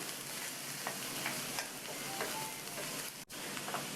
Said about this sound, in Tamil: இந்த எண்ணெயிலேயே நல்லா ஒரு 2 நிமிஷத்துக்கு இந்த முள்ளங்கியை வதக்கிக்கணும்